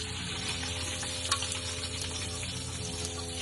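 Crushed garlic, ginger and green chili frying in a pan make a soft, steady sizzle with a faint stir partway through. The sound is quiet and close, with no talk.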